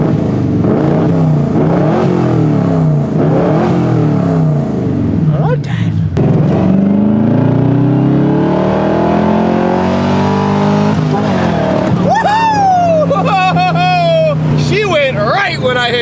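A 1975 Corvette with a 4-speed manual roars loudly and close, its engine note climbing through the gears with a steady rising howl, while a voice talks over it.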